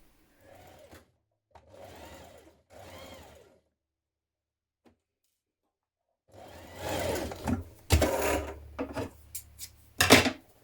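A sewing machine stitches a dart in a top, tapering toward the point, in three short bursts followed by a longer, louder run broken by clicks and handling noises.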